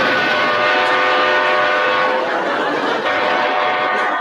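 A train goes by close and loud, its steady rumbling roar and long horn-like tones filling the whole stretch without a break.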